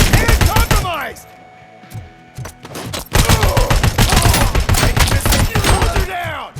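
Rapid, loud bursts of automatic gunfire fill a RoboCop: Rogue City firefight, dense volleys with a brief lull in between, mixed with game voice lines and effects.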